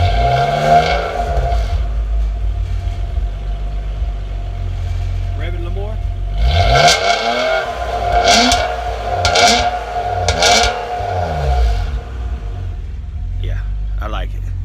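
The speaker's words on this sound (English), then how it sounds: "Rev it a little more." A 2012 Nissan Maxima fitted with a cold air intake and aftermarket exhaust, idling then revving in several sharp, rising bursts, loud and close, with voices talking over the engine.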